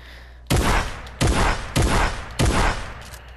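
Four loud, rapid shotgun blasts from a video game, each a sharp boom with a short decaying tail, spaced roughly half a second to a second apart, with no talking.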